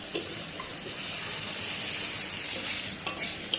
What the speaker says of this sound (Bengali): এই যে সমস্ত চিংড়িগুলো ভাজা হয়ে গেছে, এবার আমি নামিয়ে নিচ্ছি।